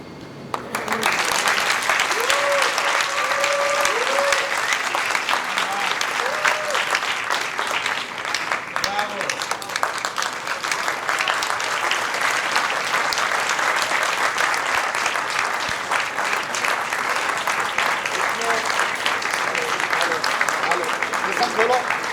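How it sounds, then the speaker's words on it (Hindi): Audience applause fills a theatre after a stage performance at a festival, loud and sustained for over twenty seconds with dense steady clapping. A few faint voices call out in the crowd early on. "इतने शानदार परफॉर्मेंस के लिए आपकी तालियां बहुत कम है।"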